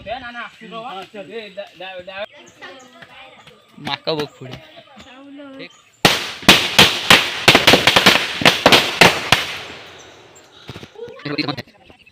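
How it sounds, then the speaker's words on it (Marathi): A rapid string of sharp firecracker bangs bursts out midway during a Ganesh idol arrival in a village, loud and close, after and around people talking. "आयुष बघा फटाके घेऊन इलेलो"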